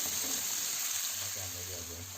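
Minced chicken frying in a pan for chicken kachori filling, a steady close hiss of sizzle with faint stirring, no speech.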